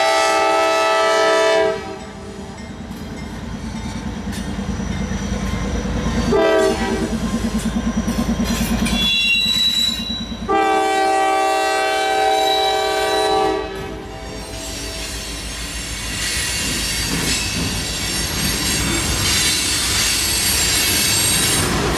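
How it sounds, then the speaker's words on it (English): A Norfolk Southern ethanol freight train with three locomotives rolls past close by, sounding loud sustained horn blasts over a steady roar of wheels and squealing rail noise. "Looks like we might have an ethanol train."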